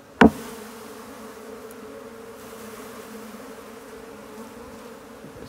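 Honeybees shaken from frames into a hive, one sharp knock at the start followed by a steady, dense buzzing hum close by.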